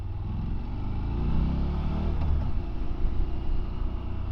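A Morbidelli T1002V V-twin motorcycle engine thrums low and steady from the rider's position, rising slightly as it shifts smoothly through a gear change, with wind rush blended in.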